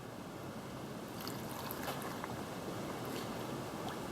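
Sugar syrup ladled into a jar of cherries during home canning, a steady soft liquid pour and trickle running continuously, fairly close, with no talk.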